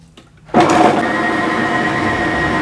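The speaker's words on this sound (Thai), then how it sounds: "ใส่เครื่องปั่นได้เลยครับ" After a brief quiet start, a blender motor kicks on loudly and grinds raw chicken breast steadily without stopping.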